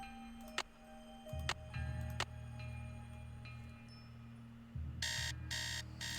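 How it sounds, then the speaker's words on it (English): An alarm clock in the Nancy Drew game Secret of the Scarlet Hand, a few sharp ticks over a low hum, then a rapid electronic ringing burst near the end, faint and with no talking. "I love the point in Nancy Drew games where I just set the alarm like a lot."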